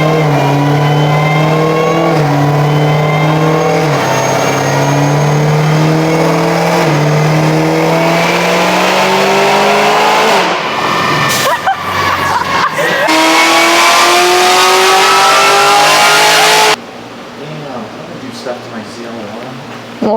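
A Chevrolet Camaro ZL1 tuned on ethanol, loud and close on a dyno, its engine winding up through long sustained revs with stepped rises and falls before cutting off abruptly near the end, with voices underneath.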